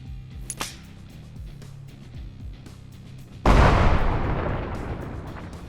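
A grenade detonates with a loud, close blast and scattering fragmentation debris in the shooter game Bellum, arriving after a stretch of quieter ambient battle noise and a few distant pops, then fading as a long rumbling tail.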